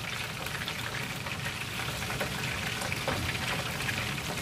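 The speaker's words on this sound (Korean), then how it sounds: "튀김가루를 새우에다 묻혀서 반죽에다 담아서 그리고 튀겨주세요" Battered shrimp frying in hot oil for Chinese chili shrimp, a steady soft crackling sizzle with dense fine pops, fairly faint and continuous with no voices.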